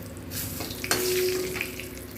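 Bay leaf crackles and sizzles in hot oil in a pan, a soft steady frying hiss with a sharp pop near the middle and faint utensil clinks.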